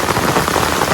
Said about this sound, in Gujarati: ભારેથી અતિ ભારે વરસાદ છે ગારિયાધારમાં.